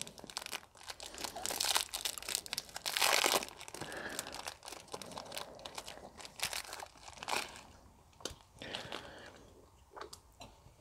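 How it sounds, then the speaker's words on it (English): The plastic wrapper of a 2015 French RCIR ration cereal biscuit is torn open and crinkled up close, in bursts of crisp rustling that fade into quieter handling. "Now let's open one of the cereal"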